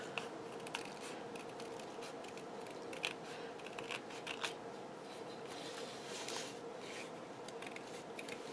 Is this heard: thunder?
no